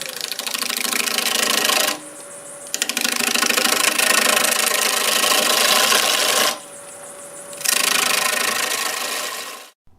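A wood lathe spins black walnut at about 800 RPM while a half-inch gouge cuts, giving a loud, steady rasping hum that drops away twice in short pauses before winding down at the end.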